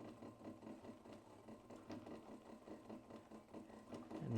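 A sewing machine back stitches on a leather bag, running steadily with a quick, even mechanical clatter that goes on throughout and swells slightly at the end.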